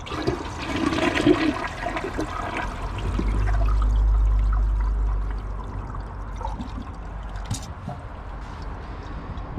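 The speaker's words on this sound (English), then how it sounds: "I'm gonna flush it and clog it" A household toilet flushes nearby, with a loud rushing surge that peaks and then gives way to a longer trickle as the tank refills, and no talking over it.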